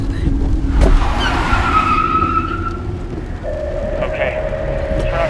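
Car in the VR game Dispatch pulling over to park, with engine drone and tire noise shifting as it slows, a loud continuous vehicle sound with tonal whines sliding across the clip.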